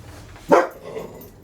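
One sharp, loud dog bark up close, standing out briefly against a quiet room background.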